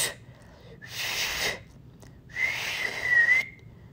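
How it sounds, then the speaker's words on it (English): Two breathy whistling attempts separated by a pause, the second producing a faint, wavering tone; airy and close, with no other sounds. "My brother taught me to whistle."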